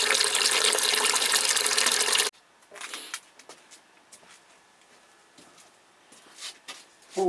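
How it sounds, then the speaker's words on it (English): A small fountain pump pushes out water while orchid feed water is being prepared, giving a loud, steady rushing splash for about two seconds before it cuts off abruptly, leaving quieter drips and small clinks. "I've got a little fountain pump in there, so that's the reason it's pumping out."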